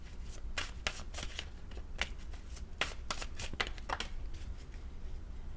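Tarot cards are shuffled by hand close up, a steady crisp riffling with repeated sharp flicks as cards are drawn, with no voices.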